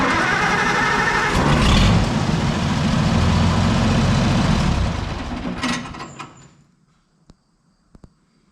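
An old tractor engine fires up without choke and runs loud and steady, a dense rumble that ends abruptly, followed by a few faint clicks in near silence.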